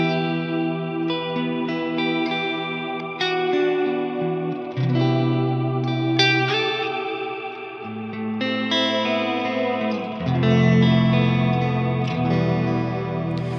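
A Strymon BigSky reverb pedal in chorale mode builds an ambient swell from chords, layering choir-like voices with chorus and echo into a dense, shimmering wash that changes harmony every few seconds and holds steady and loud throughout.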